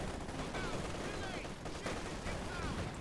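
Dense gunfire and machine-gun bursts crackle through a Company of Heroes 2 battle in a continuous, busy volley, with a commentator's voice over the top.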